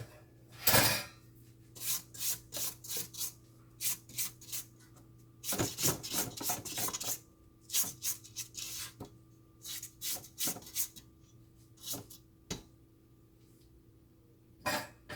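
A spatula scrapes around the outside of a mixing bowl of lemon pound cake batter in a series of short, quiet scraping strokes with brief pauses between them.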